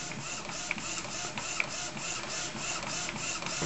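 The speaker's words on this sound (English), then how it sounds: "and it's printing away" An Epson SX405 inkjet printer running a high-quality photo print, giving a steady, close mechanical whir with faint periodic clicks of the print head, with no voices.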